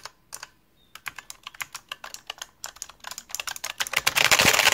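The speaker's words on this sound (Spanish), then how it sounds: "Teclado opto mecánico." Fast typing on a Razer opto-mechanical keyboard, with crisp, closely spaced key clicks in a steady stream that grows denser and louder toward the end, close up and without talk.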